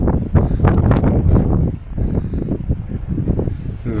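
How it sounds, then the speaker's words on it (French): Strong gusty wind buffets the microphone on a high mountain trail in Nepal near 4000 metres, loud rumbling bursts that swell and ease unevenly throughout. "Le vent est de plus en plus fort."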